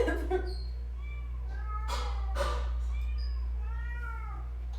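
A kitten at a cat shelter meows again and again, short high cries spread across the stretch over a low steady hum, with no talking.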